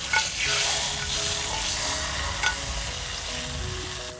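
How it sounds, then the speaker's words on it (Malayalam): Mustard seeds temper in hot oil for a Kerala-style papaya kichadi, giving a steady, close sizzle with a few sharp pops and crackles throughout, with no voices. "ഇനി ഇതിലേക്ക് കടുക് താളിച്ച് മതിയാവും."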